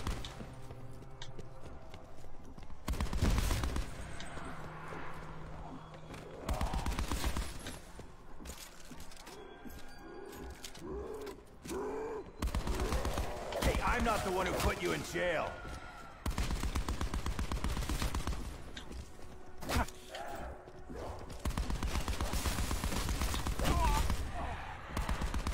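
Call of Duty Black Ops 4 Zombies gunfire on the Blood of the Dead map, repeated bursts of shots with a busy game mix and someone talking between and over the firing.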